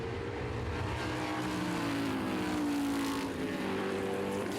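F5000 open-wheel race cars in the 2010 Bruce McLaren Trophy at Pukekohe circuit roar past, engines droning steadily with rising and falling pitch as they pull out of the hairpin and accelerate, loud and continuous with no talk.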